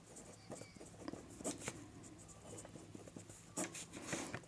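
Pen writing on paper during a math lesson produces faint, close scratching strokes in short irregular bursts, quiet and alone with no voice.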